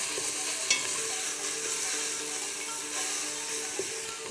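Lamb tagine ingredients stirred in a pot over low heat, a steady sizzling hiss of frying with soft scraping stirs and an occasional louder clink, close and continuous, no talking.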